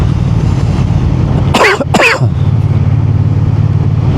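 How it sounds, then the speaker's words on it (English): Two harsh coughs in quick succession, close to the microphone, over a steady rumble of a Triumph T120 Bonneville motorcycle engine in freezing weather. "I'm sorry, I'm coughing."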